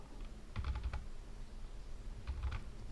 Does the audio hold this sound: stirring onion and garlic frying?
no